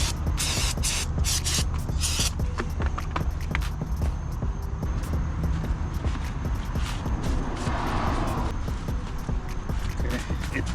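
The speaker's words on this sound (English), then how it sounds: "Let's just do a little brake cleaner on top of there." Brake cleaner sprays onto the front or rear brake parts of a 2019 Toyota RAV4 Prime, a steady hissing spray blended with clattering and scraping noises close at hand.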